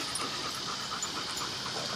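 A dog pants steadily and quickly up close, a soft breathy rhythm that continues without a break and without voices.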